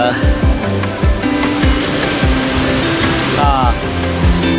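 Khlong Lan waterfall in Kamphaeng Phet, Thailand, roars with a steady, loud wash of rushing water, while a voice talks over it intermittently throughout.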